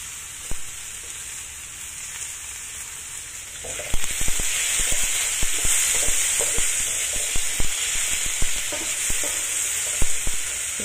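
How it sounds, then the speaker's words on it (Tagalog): Potatoes frying in a pan of oil, a quiet hiss that swells into a busy, crackling sizzle once they go in, with scattered stirring clicks close by and no talking. "i-fry ko muna sandali yung potato para hindi madaling madurog"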